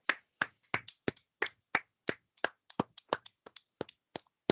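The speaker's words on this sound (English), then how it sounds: "So we'll get to clap it up on the air." Hands clapping, about fifteen sharp, separate claps in a loose, uneven rhythm, close and dry against near silence.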